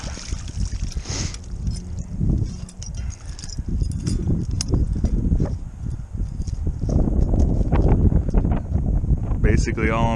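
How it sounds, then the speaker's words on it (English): Strong wind roars and buffets the microphone throughout, with low rumbling gusts, while a person talks faintly underneath, outdoors on ice. "It's awfully windy"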